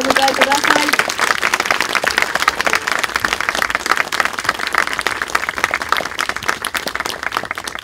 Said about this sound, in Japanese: 改めて大きな拍手でお迎えください。